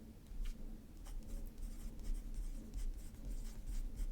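A Franklin-Christoph Pocket 20 fountain pen with a perspective nib and Private Reserve plum ink scratches steadily across paper, soft continuous nib strokes over low room hum with no talking.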